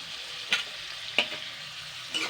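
Chopped onion, tomato and green chili stir-fried in a pan, a soft steady sizzle with three brief spatula scrapes spaced across the short stretch, close and fairly quiet, no voices.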